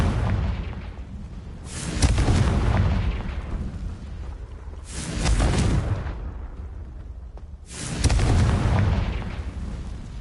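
Confringo explosion spells in Hogwarts Legacy, three loud, booming blasts spaced a few seconds apart, each with a sharp crack and a rumbling tail over a constant low game backdrop.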